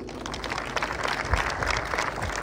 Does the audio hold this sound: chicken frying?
no